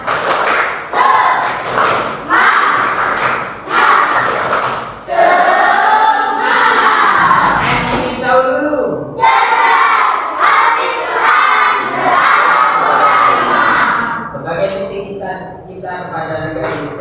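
A class of fifth-grade primary school pupils loudly chants and shouts together in the 'tepuk semangat' spirit chant, with rhythmic thuds of clapping or stamping punctuating the voices in repeated bursts.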